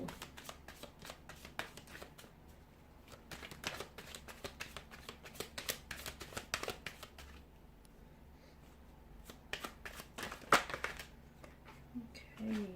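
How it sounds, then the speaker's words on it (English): Tarot cards shuffled repeatedly up close, a rapid flutter of riffles and snaps over several seconds, quiet and steady with brief pauses. "So we'll go ahead and give the cards a shuffle."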